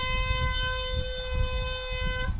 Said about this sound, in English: And there's the siren, folks.